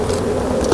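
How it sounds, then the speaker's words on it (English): Roughly three hundred honey bees buzz inside a jar, giving a dense, steady, close drone that holds level for under a second with no voices. "I've got about half a cup of bees in there, about 300 bees."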